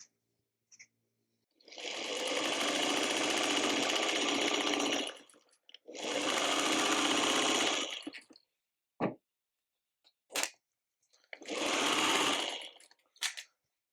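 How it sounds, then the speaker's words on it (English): A sewing machine stitches quilt block rows together in three long, steady runs of a few seconds each, separated by short pauses with brief clicks and handling sounds, close and clear with no talking. "We're going to sew these 3 rows together."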